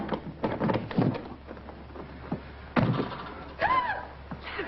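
A wooden door opens in a 1945 mystery radio drama, a dull thunk followed by shuffling and knocking movement, heard fairly close with no voices over it.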